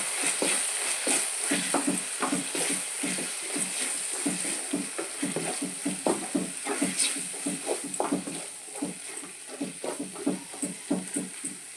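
Tomato and chilli powder simmer and sizzle in a pan for Telugu-style egg tomato curry, with a steady frying hiss and repeated scraping stirs of a spoon throughout.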